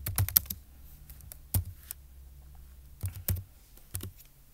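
Typing on a computer keyboard comes in short irregular bursts of sharp clicks with pauses between them, close and fairly quiet, with no talk.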